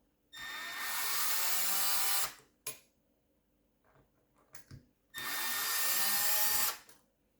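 Cordless power driver backing screws out of the case of a Makita XCU08 36V cordless chainsaw, two long steady whirring runs close by, separated by a gap with brief clicks and rattles of handling.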